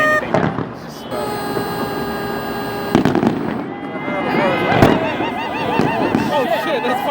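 New Year's Eve fireworks at the Seattle Space Needle, with loud booming bursts and crackling pops rolling out over a crowd, sharp blasts near the start and midway, and voices and cheering audible throughout.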